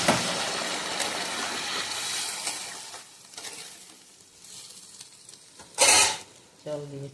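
Paneer curry being stirred in a pan, with scraping and sizzling that fades to quieter stirring, broken by a sharp clatter of utensils near the end.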